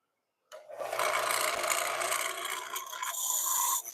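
An inexpensive disc sander spins up in a woodshop during a mallet build, a steady broadband whirring rasp with a faint low hum that holds for about three seconds before cutting off.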